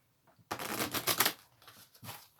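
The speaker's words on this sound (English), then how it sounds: "My shuffling skills are terrible tonight." Oracle cards are shuffled in a quick, crisp riffling burst lasting about a second, followed by a short softer shuffle, close and fairly quiet.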